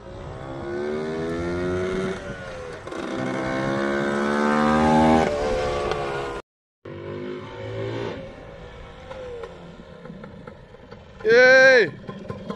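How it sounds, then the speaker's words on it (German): Small moped engines on a test ride, including an LML 125, a Fantic 50 and a Puch, droning and rising in pitch as they rev, with a brief cut, and voices speaking over the engine noise. "wir sind gerade mit den Mopeds noch ein Stück unterwegs"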